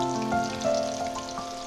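Jackfruit chilli pieces fry in hot oil in a frying pan with a soft, continuous bubbling sizzle and scattered small pops. The sound stays close and steady, and no one talks over it.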